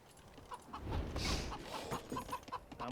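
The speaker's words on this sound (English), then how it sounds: "now it's chickens in the game." Chickens cluck in Age of Empires II, a faint scattering of short clucks over a low wash of game ambience.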